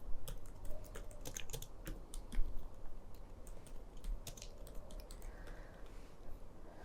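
Continuous typing of code on a computer keyboard, a steady stream of close, crisp key clicks with uneven rhythm over a low background hum.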